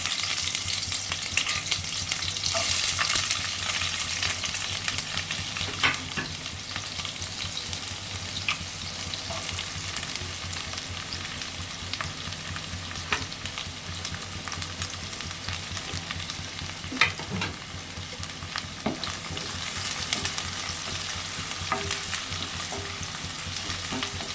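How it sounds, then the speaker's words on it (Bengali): Chopped onion sizzling steadily in hot mustard oil in a kadai for chicken keema, a continuous close frying hiss with occasional stirring scrapes throughout. "কড়াতে সর্ষের তেল দিয়েছি আর দিয়ে দিচ্ছি পেঁয়াজ কুচানোটা"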